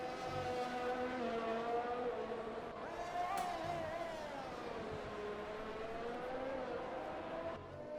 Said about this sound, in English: you can hear the sounds of those cars echoing off back and forth